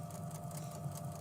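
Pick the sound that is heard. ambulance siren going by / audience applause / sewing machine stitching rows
sewing machine stitching rows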